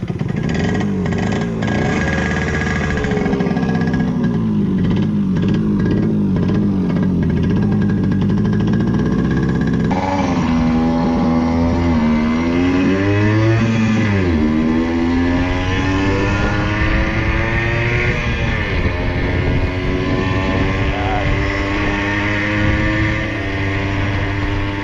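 A 1970s Yamaha FS1-E pedal moped engine runs loud and close, its small two-stroke buzz rising and falling as it revs, with pitch sweeps suggesting acceleration and gear changes.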